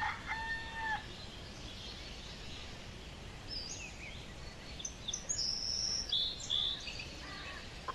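A fighting cock crows outdoors, one short crow at the start and a longer, shrill crow in the middle, set against a constant hum of crickets and insects, with no voices.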